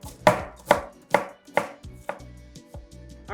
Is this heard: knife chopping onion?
yes